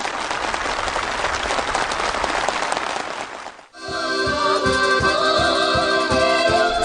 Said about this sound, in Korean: 참가자들의 열렬한 박수 속에 전달됐습니다.